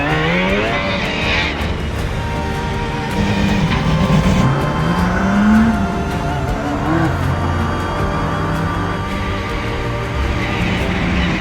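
Cars drifting on a Japanese mountain pass (touge), engines revving hard with rising and falling pitch, tire squeal and exhaust roar passing close, loud and continuous throughout with no talking.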